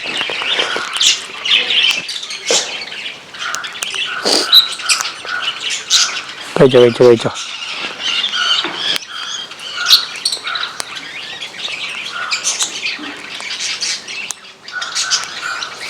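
African lovebirds in an aviary chirp and squawk repeatedly while cracking and eating small seeds, busy close calls with one burst of harsher squawking, under a person talking to them.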